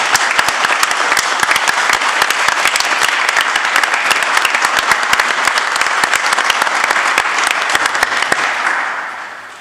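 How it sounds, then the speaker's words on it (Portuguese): An audience gives a sustained, loud round of dense applause at a reading event, steady for about nine seconds before trailing off at the end. "Umas palmas para a Diana"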